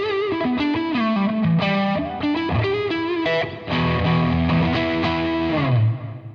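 Electric guitar played through a Maxon RTD800 pedal switched to overdrive mode, a run of sustained, harmonically rich driven notes and chords with slides, steady and loud throughout.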